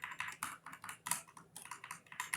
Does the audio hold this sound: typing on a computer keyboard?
yes